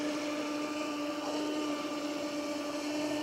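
Traxxas Spartan RC boat with a 6S setup running at quarter throttle, a steady high-pitched electric motor whine, moderately distant and constant throughout.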